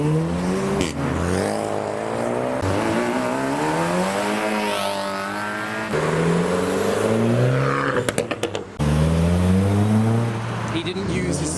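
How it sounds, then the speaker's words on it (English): BMW M5 with a turbocharged engine accelerating hard away from a car meet, a loud rising engine note with turbo whoosh that climbs in pitch, shifts and surges again, with people talking and cheering over it. "Big turbo noises from the M5."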